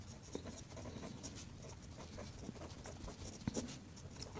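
Pen scratching across paper while writing out a maths solution, soft irregular strokes and taps close by with no talk.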